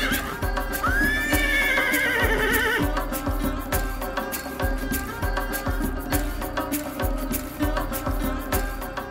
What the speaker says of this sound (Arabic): صهيل خيل يصدح في أرجاء المكان، وجواد يستعرض مهاراته برشاقة وحيوية